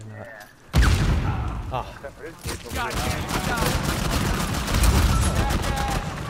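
Pistol and other gunfire in the Uncharted 4: A Thief's End multiplayer game, a rapid string of sharp shots and bursts under excited player voices, loud and dense after a brief quiet start.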